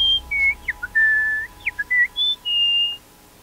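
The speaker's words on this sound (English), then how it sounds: "you realize that the whistles are coming from all around you in all directions" Melodic human whistling, a series of clear sustained notes and short chirps with brief gaps between phrases, close and fairly loud over a quiet background.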